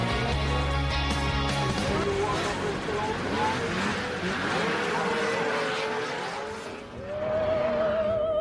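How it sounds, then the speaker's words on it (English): Snowmobiles race around a snowcross track at speeds up to 80 miles an hour, their engines roaring loud and close in a continuous drone, with a rising whine from one machine near the end. "This is snowcross, a sport where you race round a track at speeds of up to 80 miles an hour."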